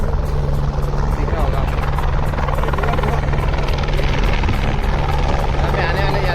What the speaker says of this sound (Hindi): हाँ एक बार हेलीकॉप्टर की लैंडिंग हो रही है इधर